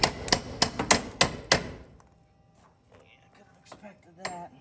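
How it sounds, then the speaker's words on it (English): A handleless ball peen hammer strikes metal in a run of about eight sharp, close, ringing blows during repair work on a 1977 El Camino door hinge, followed by quieter light taps and a last knock. "We're using our completely handleless garbage ball peen."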